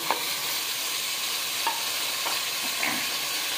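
Tomatoes fry with ginger and garlic in a pan for beef aloo keema, producing a continuous close sizzle broken by a few soft stirring scrapes.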